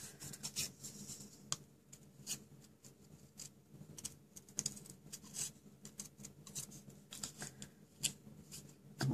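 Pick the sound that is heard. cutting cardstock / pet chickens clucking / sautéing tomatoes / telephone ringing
cutting cardstock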